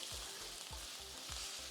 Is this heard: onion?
yes